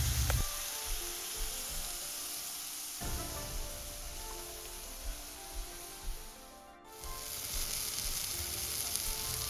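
Pears sizzle in a pan with a spoonful of tea added, a steady close-up frying crackle with a few soft stirring scrapes and no talking.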